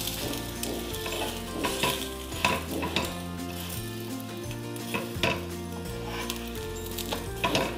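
An egg roll frying and being flipped in a pan gives a continuous sizzle, with repeated clinks and scrapes of a spatula against the pan over a low background hum.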